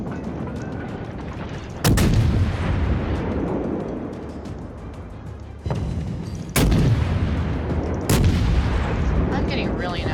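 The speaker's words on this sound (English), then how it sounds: "Now we're just gonna lay fire into this guy." Naval artillery from warship guns in World of Warships, with three loud broadband booms that each roll off slowly, set against a steady rumble of ocean battle ambience, no talk.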